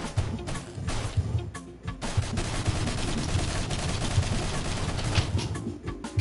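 Video game gunfire from Mercenary Kings rattles in a dense, sustained barrage of rapid shots with scattered louder bangs, loud and continuous throughout.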